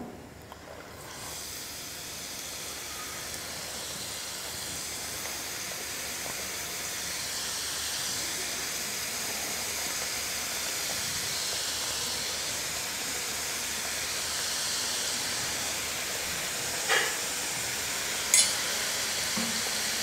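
Somas pastries deep-fry in hot oil on a lowered flame, giving a continuous loud bubbling sizzle and hiss throughout. A couple of brief sharper crackles pop out near the end.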